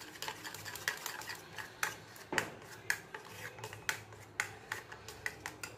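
A spoon stirring chutney with chili flakes and oregano in a bowl, a steady series of close scraping and clinking strokes in an irregular rhythm, with no talking.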